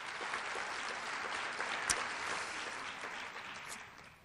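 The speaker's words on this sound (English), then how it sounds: "So a round of applause ahead of time, right?" An audience claps throughout at a youth recognition awards ceremony, a steady, moderately distant patter of many hands that slowly fades toward the end.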